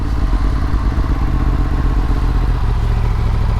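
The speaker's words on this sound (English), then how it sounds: "Going, no clutch, giving it gas, controlling the U-turn with the foot brake." Motorcycle engine idling and pulling lightly during a slow U-turn controlled with the foot brake, a close, steady low throbbing rumble with fine rhythmic pulses throughout.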